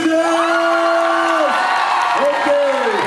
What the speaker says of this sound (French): je vous demande de faire un tonnerre d'applaudissements pour Anne Sheila